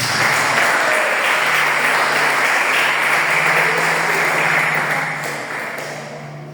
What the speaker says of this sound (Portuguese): Você que pode aplaudir o Senhor.